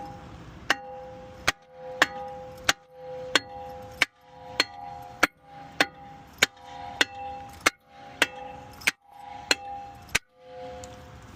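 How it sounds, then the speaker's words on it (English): Repeated sharp metal clangs from a hammer striking an Alfa Romeo Giulia brake rotor to loosen it, about a dozen evenly spaced ringing blows, close and loud, with no talk. "I'm gonna hit the rotor, so the rotor can be loose with a hammer"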